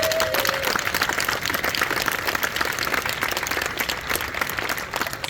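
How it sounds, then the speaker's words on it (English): Outdoor crowd applauding state employees who restarted the Capitol Mall fountain in Lansing, a continuous, even burst of many hands clapping, with a short vocal sound at the very start. "I think we should give them a big round of applause."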